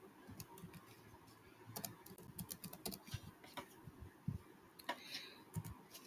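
Quiet computer keyboard typing as Python code is entered, with irregular soft key clicks in short runs, close but faint over a faint room hiss.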